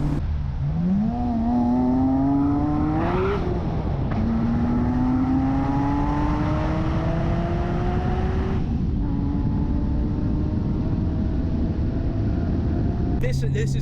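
A supercharged 550 bhp BMW E46 M3 engine revs up through the gears, pitch climbing in long pulls with brief drops between shifts, a strained scream under constant road noise.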